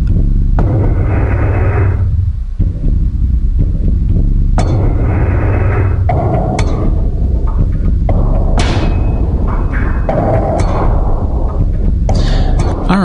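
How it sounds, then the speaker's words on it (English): Background music playing at the start of the Warp Wars video game, heavy and booming with repeated low rumbling bursts and rising layered swells that fill the stretch steadily and loudly with no talk over it. "what you're hearing right now is the background music that starts up at the beginning of the game."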